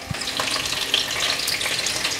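Celery and ginger slices hit hot oil in a wok, a loud, continuous sizzle and crackle with scattered spatter and stirring, close and alone.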